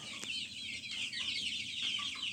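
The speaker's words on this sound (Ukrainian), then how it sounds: "Знаходжусь біля півників." Young roosters in a village yard cluck softly and intermittently, faint and somewhat distant against a quiet outdoor background, with no one speaking.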